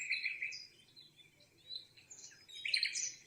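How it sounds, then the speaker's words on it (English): Bright birds chirp and trill in a calm meadow birdsong track from a Vindsbay travel sleep sound machine, several calls overlapping softly with a faint low hiss underneath. "it's a meadow with lovely birds"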